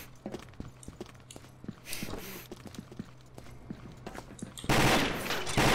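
Gunfire in the online shooter Combat Arms, with rapid bursts of close shots and clattering footsteps, ending in a loud, sustained blast of noise.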